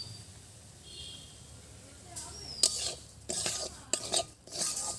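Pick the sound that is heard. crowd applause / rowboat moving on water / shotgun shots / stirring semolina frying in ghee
stirring semolina frying in ghee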